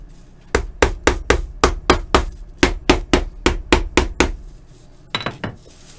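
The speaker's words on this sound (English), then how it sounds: "You got to hold it and hammer it." Small nails are hammered into pre-punched holes in shoe leather, giving a close, loud run of about sixteen sharp, evenly spaced strikes, then a pause and a few lighter taps.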